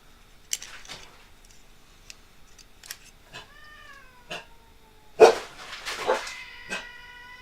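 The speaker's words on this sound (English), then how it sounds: "now the dogs and cats are starting to bark" Dogs and cats calling out in a mix of short barks and meows, scattered yelps at moderate distance, a louder burst midway, with no talk over them.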